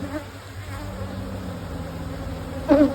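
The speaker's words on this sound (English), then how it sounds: "just shake the bees into the bottom box" Honey bees being shaken from brood frames into the bottom box of a hive, a steady close buzzing hum throughout that swells louder near the end.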